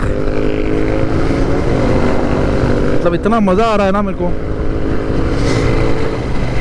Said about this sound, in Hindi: ओह माय गॉड, इतनी लाउड बाइकें, इतनी लाउड बाइकें।